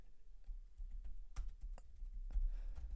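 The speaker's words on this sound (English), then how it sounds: "I'm pressing keyboards." Typing on a computer keyboard, a handful of sparse, quiet key presses with a couple of sharper clicks, close and alone against a soft room hiss.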